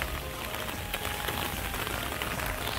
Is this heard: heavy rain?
yes